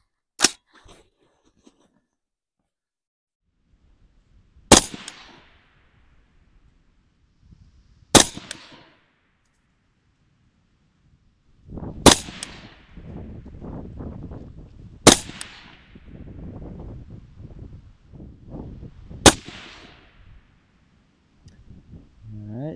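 Five sharp, loud AR rifle shots of 62-grain M855 rounds fired at a 100-yard target, spaced several seconds apart with a short echo after each and a soft rustle between them.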